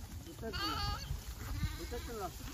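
Sheep bleat on a village farm beside the Meghna river in rural Bangladesh, a few wavering calls heard close by amid outdoor background noise, with someone talking over them.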